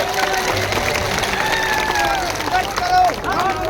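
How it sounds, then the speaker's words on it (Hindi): Crowd applause and cheering at an outdoor political rally in Kherwara, Rajasthan, welcoming a candidate: dense, continuous clapping and crowd hubbub with voices mixed in and a loudspeaker voice over the top. "उनका जोरदार तालियों से स्वागत करेंगे, जोरदार तालियों से।"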